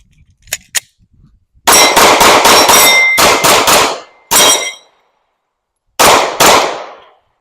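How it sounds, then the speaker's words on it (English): Glock 45 pistol fitted with a ramjet, fired outdoors in rapid strings of sharp, loud, ringing shots, a burst of about eight followed by single and paired shots with short pauses between. "I definitely do enjoy shooting the G45 with the ramjet a little bit more."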